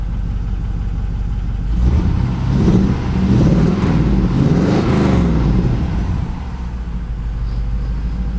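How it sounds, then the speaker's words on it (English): An LS-swapped engine with a knocking cam runs close and loud, a steady rumbling idle that swells in a brief rev midway before settling back down. "There's a little knocking going on in there."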